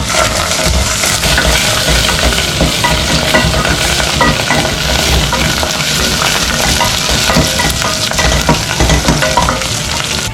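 Wooden spoon stirring a vegetable and garden-herb mixture in a hot pan for vegetarian lasagne, a steady loud sizzle with continuous scraping and stirring throughout, no talking.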